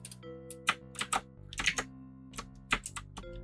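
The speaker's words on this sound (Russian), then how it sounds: "Ты просто это на клавиатуре накликал" Irregular bursts of computer keyboard keystrokes, clicking in quick clusters with short pauses, close up over a steady tonal background of music.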